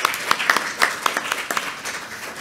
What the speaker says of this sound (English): Let's give one more round of applause for our first two speakers for today.